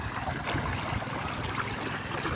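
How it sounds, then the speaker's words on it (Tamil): Water rushing fast from a Chinese-made motor pump in a village setting, a steady broadband gush with a low churning rumble that runs unbroken and close throughout. "தண்ணி ஸ்பீடாக தான் வந்துட்டு இருக்கு மோட்டரில்"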